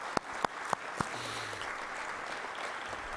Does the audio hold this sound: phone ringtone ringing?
no